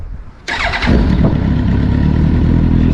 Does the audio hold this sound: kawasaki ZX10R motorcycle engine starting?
yes